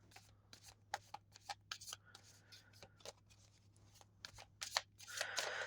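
Tarot cards shuffled and pulled by hand, giving a run of quick papery riffles and slaps at close range, ending in a longer, denser burst of shuffling.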